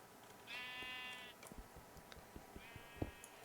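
Sheep in the video game Terra Firma Punk give two drawn-out bleats, the first longer and louder, with faint clicks and taps between them and no speech.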